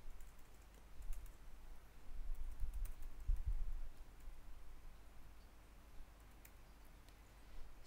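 Command being typed on a computer keyboard, quiet scattered key clicks in a soft irregular run over faint background hiss, nobody talking.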